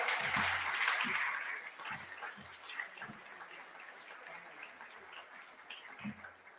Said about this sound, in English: So if we can please give her a huge round of applause